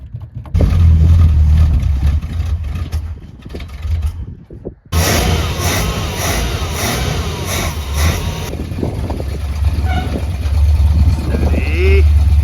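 A 1976 Dodge Coronet CHP 440 V8 cop car runs rough and loud, revving and droning close by, with a short break before the engine noise resumes and carries on steadily.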